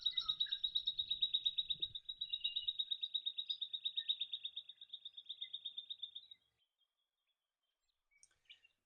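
A white-winged triller calls in New England woodland with a long, rapid, rhythmic trilling series of clear notes that runs steadily for several seconds before stopping, with a few faint chirps afterward.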